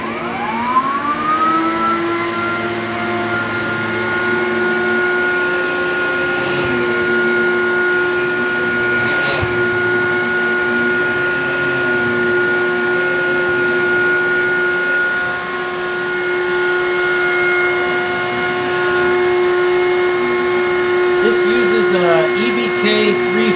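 A Hyla EST canister vacuum cleaner, made in Slovenia, spins up and then holds a loud, steady, high-pitched motor whine with a constant airflow roar for more than twenty seconds.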